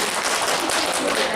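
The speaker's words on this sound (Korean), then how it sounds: "이제 박수 한번." Applause at a small company staff introduction, steady dense clapping filling the short moment at moderate level.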